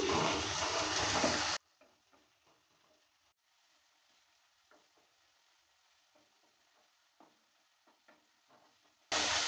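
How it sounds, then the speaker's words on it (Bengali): Chopped tomato and ginger fry in a pan as they are stirred. A loud burst of sizzling comes at the start and end, with a quieter stretch between of faint spatula ticks and scrapes. "আদা টমেটোটা দেওয়ার পর ভালো করে নেড়েচেড়ে নিচ্ছি। একসঙ্গে এবার ভালো করে ভেজে নেব কিছুক্ষণ সময় নিয়ে।"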